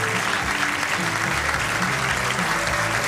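A bowling crowd in Wichita stands and applauds at a professional bowling championship, a dense, steady wash of clapping that holds at full strength from start to finish with a faint murmur of voices beneath.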